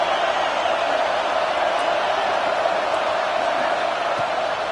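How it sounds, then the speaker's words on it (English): Stadium crowd in the College Football 26 video game on a third down at an Ohio State home game, a dense, loud, sustained roar with steady intensity and no distinct individual voices. "The Buckeye crowd alive on third down."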